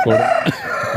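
A fighting rooster crows loudly and close by at a weekly village market, one harsh drawn-out call that breaks off partway through, with faint scattered noise after it.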